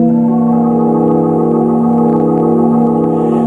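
A sustained gospel organ chord, C dominant 7 sharp 11 sharp 5, with the C root held on the pedals. It is played loud and steady, the full chord ringing without a break for several seconds, with no talking.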